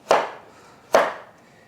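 A knife chops leftover carrot nubs into coins on a cutting board, two sharp, close chops about a second apart with quiet between.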